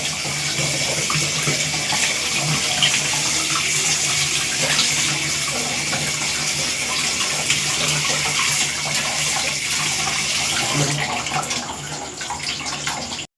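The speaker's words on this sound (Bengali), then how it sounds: "এবার ঠান্ডা জল দিয়ে একটু ধুয়ে" Cold tap water running over boiled chow mein noodles in a kitchen sink, a loud continuous splashing gush that holds steady throughout before cutting off abruptly at the end.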